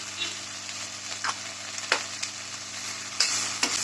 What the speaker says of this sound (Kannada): ನುಗ್ಗೆ ಸೊಪ್ಪನ್ನು ಚೆನ್ನಾಗಿ ಹುರ್ಕೊಳ್ಬೇಕು